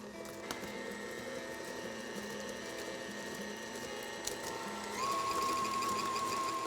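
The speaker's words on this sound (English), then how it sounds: "I'm going to mix in the eggs one at a time and beat the batter until each egg is incorporated pretty well" Electric mixer beating eggs into cranberry pound cake batter in a bowl, a steady close whirring motor drone that grows slightly louder and higher near the end, with no talking.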